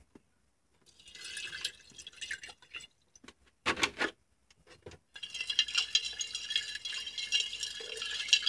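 Liquid dripping and trickling through a filter during gold recovery from electronic waste, with soft irregular splashes and short bursts of pouring, a brief gap, then a steadier hissing trickle, close and fairly quiet.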